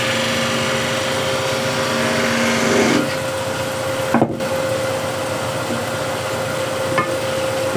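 Steady close scraping of a scraper cutting a wooden hexagon plate spinning on a lathe, over a constant motor hum with faint tonal whine, interrupted by a couple of brief knocks.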